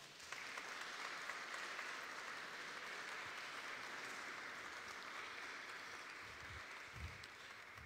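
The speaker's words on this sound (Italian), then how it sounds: "voglio ringraziarli e farlo con un forte applauso" Sustained audience applause at an evening event in the Sanctuary of Paola, a steady, even wash of many hands clapping throughout, heard at low level and slightly distant, with a few low thumps near the end.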